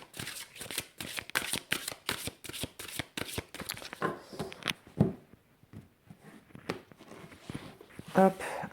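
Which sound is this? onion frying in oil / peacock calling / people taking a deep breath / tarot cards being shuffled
tarot cards being shuffled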